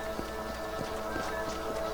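Horse hooves gallop in Red Dead Redemption at a quick, steady beat of soft thuds, close and fairly loud over a constant low game background.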